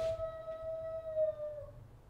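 A pet dog howls in a long, steady wolf-like wail indoors, sustained for about two seconds and fading at the end, with no talking over it.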